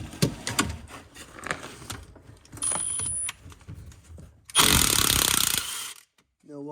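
Milwaukee power tool removing axle bolts from a BMW E36 differential: a loud, close burst of buzzing impact rattle lasting about a second, preceded by clanking tool handling and someone talking.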